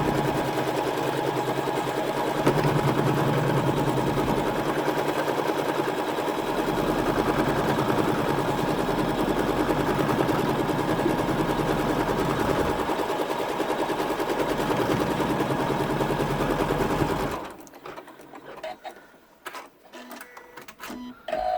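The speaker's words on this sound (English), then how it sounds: "Whilst 7 stitches the scallop area." A machine embroidery in-the-hoop scallop pouch being stitched, the embroidery machine running in a loud, steady, continuous mechanical whir for most of the clip before stopping abruptly, leaving quieter clicks and handling noises.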